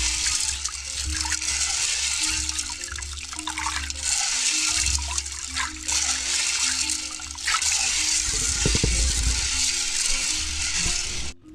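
Food being washed in water, with continuous splashing, swishing and trickling as it is stirred and rubbed by hand, close and fairly loud, with faint music underneath.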